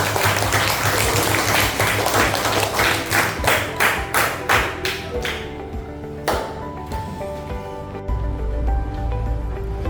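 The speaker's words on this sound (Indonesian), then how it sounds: "Oke, tepuk tangan." Hands clap as applause in a classroom, a run of sharp claps gathering into a group burst and then thinning out, with some low background rumble underneath.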